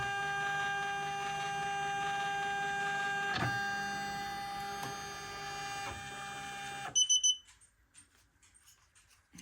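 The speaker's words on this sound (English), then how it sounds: "the embroidery frame unit guide will move" A Poolin E0C06 embroidery machine's frame unit guide travels with a steady, tonal electric motor whine for several seconds, then stops, followed by a short series of high electronic beeps.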